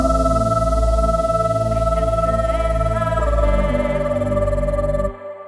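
A music track with a stutter vocal effect, its volume chopped by LFO automation into a steady rhythmic pulsing over sustained tones, ending with a sudden drop in level.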